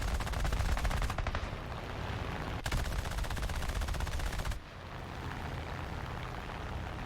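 Rapid, dense bursts of aircraft cannon fire from an A6M3 fighter in War Thunder ring out loud and close, shooting at a P-47, with brief pauses between the sustained volleys and continuous engine drone underneath.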